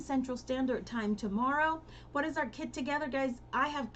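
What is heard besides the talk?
No distinct noise like a dog, phone or traffic.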